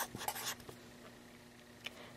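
A marker or chalk writes on a board during a math lesson on polar equations. Faint scratchy strokes come in short bursts near the start and once more later, with no talk.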